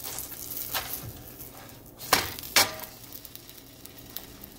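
Ham and grilled cheese sizzle in a frying pan with a steady, close crackling hiss, broken by a couple of sharp scraping clacks as the sandwich is flipped.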